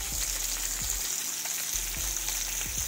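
Salmon frying in butter in a pan, a steady close sizzle running throughout, with a few soft low knocks of a utensil against the pan.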